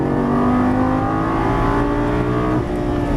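A Lamborghini Gallardo LP550 accelerates on a track, its engine a loud, continuous close-up roar with a dense harmonic drone that holds steady with only a slight dip near the end.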